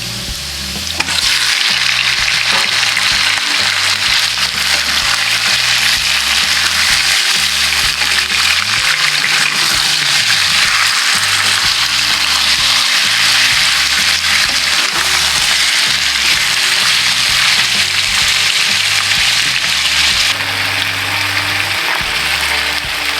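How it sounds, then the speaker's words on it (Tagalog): Chicken pieces sizzle and fry loudly in a pan with browned onions and garlic, a steady, close, dense crackle running unbroken with occasional stirring. "Medyo nag-brown yung mga sibuyas, bawang. And then, ilalagay na natin tong chicken."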